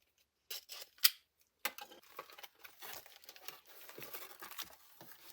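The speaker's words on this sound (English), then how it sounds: "now we can actually like unbox or unwrap whatever the other items that I have" Packaged Stray Kids Bang Chan K-pop collection items are unwrapped, with faint, close crinkling, rustling and a sharp snip. The bursts are intermittent at first and then become a continuous soft rustle.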